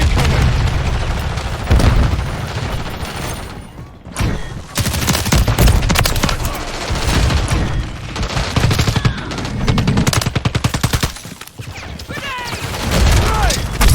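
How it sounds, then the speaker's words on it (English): In the video game MW3 a Semtex grenade blows up amid heavy gunfire, dense loud rifle bursts and booms running almost without pause, with in-game voices calling out over the shooting. "Semtex incoming!"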